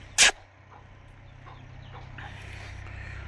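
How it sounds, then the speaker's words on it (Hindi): Faint clucking from chickens in a cage on a goat farm after a sharp knock, with a low steady hum running underneath. "मुर्गियाँ ये हमारी, ये मुर्गियों का केज है"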